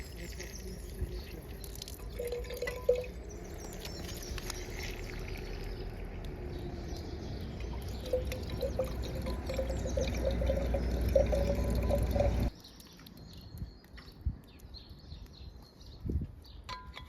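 Water pouring steadily from a stone tap into a water bottle outdoors, a continuous filling splash that stops abruptly, followed by quieter ambience with a few faint clicks.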